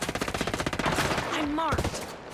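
Rapid bursts of automatic gunfire in the video game Tom Clancy's Ghost Recon Breakpoint, loud and rhythmic, with a voice speaking briefly over the shots.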